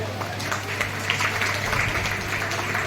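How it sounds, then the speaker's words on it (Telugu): At an International Women's Day gathering of a community association, a hall audience claps for the women's wing president. The clapping is steady and moderately loud, and people talk faintly underneath it. "అందరూ క్లాప్స్ కొట్టండి"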